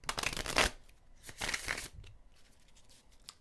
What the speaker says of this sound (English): Okay, so I feel we're ready to do a couple of shuffles.